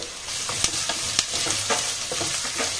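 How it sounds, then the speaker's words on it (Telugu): Chopped garlic, green chillies and curry leaves fry in hot oil in a pan for a radish leaves stir-fry, giving a steady, close sizzle broken by a few sharp stirring clicks. "ఇట్ಕೊಂಡಿದ್వಲ್ಲ ಬೆಳ್ಳುಳ್ಳಿ కట్ చేసి పెట్టుకున్న తెల్లుల్లి ముక్కలండి కరిಬೇವಿನ సొప్పు కరివేపాకు వేసుకోవాలి"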